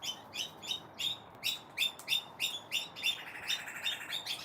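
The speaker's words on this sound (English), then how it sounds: "You can hear the king parrots in the background." King parrots call in the background, a repeated series of bright, evenly spaced chirps roughly every half second, with a thin overlapping trill near the end, steady and moderately distant over quiet ambience.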